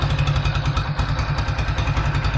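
A Kawasaki W175 (TR) motorcycle engine with a hard-starting fault runs at idle up close, a loud, steady, rhythmic single-cylinder thumping.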